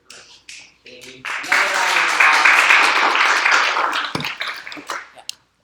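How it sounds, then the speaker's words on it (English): Applause from an audience following a talk at a data science meeting: a few scattered claps build into a sustained round of clapping lasting about three seconds, then thin out into isolated claps. "congrats on the second round of applause"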